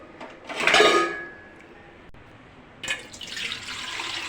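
A short burst of water splashing from a tap, fading out, then another stretch of running water starting up a couple of seconds later.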